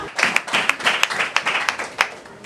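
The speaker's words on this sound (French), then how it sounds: "Est-ce que vous pouvez applaudir pour les chefs de l'État?" An outdoor audience at an official delegation visit in Muanda, Congo, claps for the heads of state, with steady uneven handclaps and a few sharper close claps standing out over a quieter crowd.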